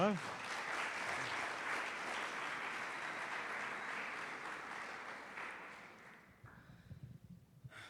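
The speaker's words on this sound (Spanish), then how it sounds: "¿Qué tal si lo recibimos con un aplauso?" An audience at a theology conference applauds to welcome a speaker, sustained clapping that fades out near the end, followed by faint voices.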